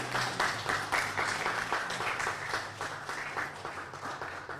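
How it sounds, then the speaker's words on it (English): A standing ovation at a press briefing, with a crowd clapping in a steady, rhythmic pattern, heard fairly faint and distant, with a low hum underneath. "give her a standing ovation, a big round of applause for the work she has done so far"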